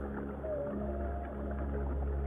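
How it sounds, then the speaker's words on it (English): Humpback whale song underwater, low moaning tones with a faint rising and falling melodic call over a deep, steady ocean rumble, distant and soft, with no voices. "This is the song of a humpback whale."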